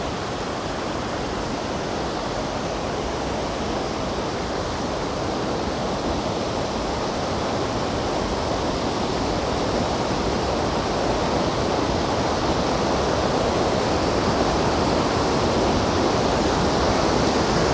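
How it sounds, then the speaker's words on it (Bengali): Powerful monsoon runoff thunders over a waterfall at Daringbadi, a loud, continuous rushing roar of heavy current that holds steady and swells slightly toward the end, with no voices. "এত জলের স্রোত তোড়ে আসছে"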